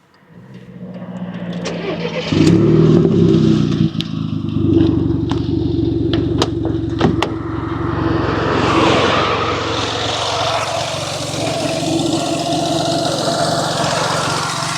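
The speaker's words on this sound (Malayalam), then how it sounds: "എന്തായാലും വണ്ടി ഒന്ന് സ്റ്റാർട്ട് ചെയ്ത് നോക്കാം." A Volkswagen Golf GTI with a faulty water pump cranks and fires, then idles with a loud, steady, slightly uneven engine rumble close by, a few sharp clicks and knocks rising over it.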